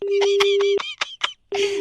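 A phone number is keyed in on a telephone, a quick run of sharp dial tones in an even rhythm, then a short pause and a final tone, with no talking.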